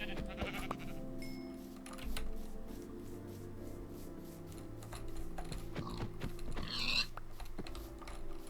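Sheep in the Minecraft video game bleat in short electronic cries over steady keyboard typing, faint and fairly low in a quiet game soundscape, with no talking.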